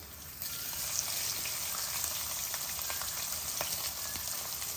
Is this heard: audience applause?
no